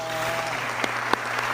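Applause from a church congregation welcoming a guest preacher, a steady crowd of clapping over a low hum, with a couple of sharper individual claps standing out.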